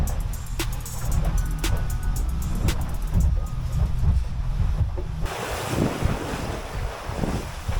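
A speedboat pounds across rough open sea on the crossing to Nusa Penida, with steady wave wash, roaring wind buffeting the microphone and a continuous engine-and-hull rumble, with no voices.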